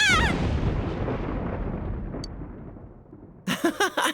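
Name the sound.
thunder from lightning in Persona 4 Golden video game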